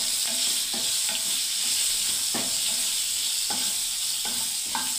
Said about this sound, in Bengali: এদিকে পটলটা আমার মনে হচ্ছে ভাজা হয়ে গেল